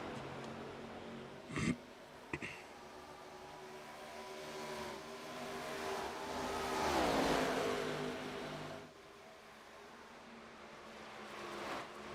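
Stock race cars roaring around the track at an ARCA race in Atlanta, engine noise swelling and fading as the pack passes, with a couple of sharp clanks early on.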